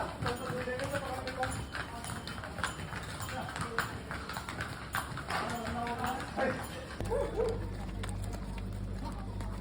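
Hooves of mules, a donkey and a horse, clip-clop faintly on a street in India, an irregular clatter under steady outdoor noise and background talk, then a low engine hum joins in.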